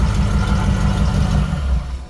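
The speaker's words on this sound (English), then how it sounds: "This is a good running little engine" A small, good-running engine hums with a strong low rumble, loud and close, holding steady for about two seconds with no talking.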